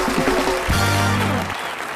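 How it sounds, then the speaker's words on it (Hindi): Studio audience applause on a Hindi comedy show, a loud burst of clapping that swells for about a second and a half alongside a brief musical sting before fading. "एक बार जोरदार ताली"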